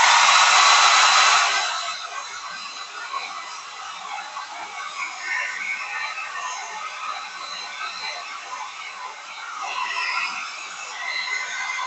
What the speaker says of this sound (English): the thing I like about this hair dryer is it has this cool button, so you don't have to let it get too hot